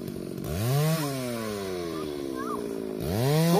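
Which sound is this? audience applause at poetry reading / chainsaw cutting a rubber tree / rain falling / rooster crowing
chainsaw cutting a rubber tree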